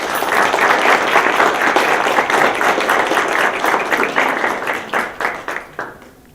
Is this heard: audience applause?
yes